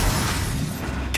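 A Confringo blasting spell fired in Hogwarts Legacy on PS5, a short, loud, dense low boom filling the moment with rumble.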